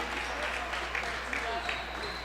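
Applause in a women's college basketball arena, Rowan against NJCU, clapping rising under a commentator's voice with a few sharp pops standing out.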